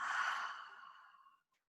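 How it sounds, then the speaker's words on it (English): One long, deep breath let out slowly during a breathing exercise, a soft airy exhale that is close and clear, fading gradually to silence after about a second and a half. "Take a long deep breath in. And take an extra 1 little breath more. Full capacity. And exhale."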